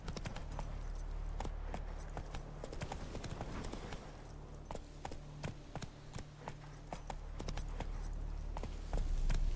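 A horse trots along in The Witcher 3, its hooves striking in a steady clip-clop rhythm at close range, with a quiet continuous hum from the game underneath.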